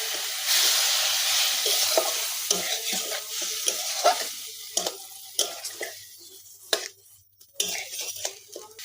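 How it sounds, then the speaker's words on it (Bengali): Chili powder and Kashmiri chili powder sautéing with a splash of water in a pan for a village-style wild taro flower and fish dish, sizzling steadily while a utensil stirs and scrapes the pan close up. "আর একটু জল দিয়ে আমি কষিয়ে নিব।"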